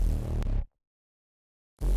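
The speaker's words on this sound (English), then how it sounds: "And the bass sounds like this." Synth bass from the Sub Breeze patch in Massive X: a thick, buzzy, low sustained tone that cuts off abruptly, falls silent for over a second, then returns loudly.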